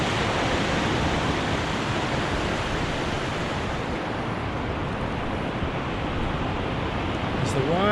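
Ocean waves wash up on a beach at sunrise during a Kemp's ridley sea turtle hatchling release, a loud, close, unbroken rushing roar of surf that fills the whole stretch.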